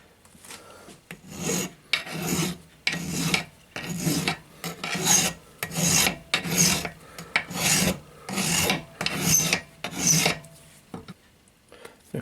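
Hand file rasping on metal boiler plates held in a vise, a steady run of about ten loud back-and-forth strokes in an even rhythm, close up with no talk.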